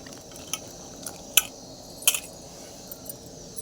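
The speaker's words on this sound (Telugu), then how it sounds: "ఇంకా వంకాయలు కూడా వేసేసా, రెండు కలుపుకున్నాం" Eggplant and onions stirred together in a pan for a tomato curry, a few soft scraping taps and clicks of a spoon against the pan over a low, steady background.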